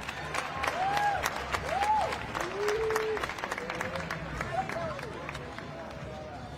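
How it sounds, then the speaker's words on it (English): A large audience at a CrossFit competition awards ceremony applauds steadily under a loudspeaker announcement, with scattered cheers, sounding somewhat distant. "Another round of applause for your 50 to 54 division."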